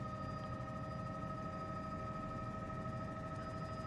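A CowanSim B206 helicopter in Microsoft Flight Simulator 2024 gives a steady, constant engine and rotor drone with a fixed whine on top, even and unbroken from start to finish, with nobody talking.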